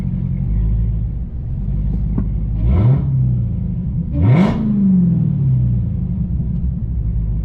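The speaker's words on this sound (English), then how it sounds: "This is a Hellcat." A Dodge Charger Hellcat pulls up, its deep engine rumbling nearby with two rising revs and a rushing whoosh, then settling back to a low idle.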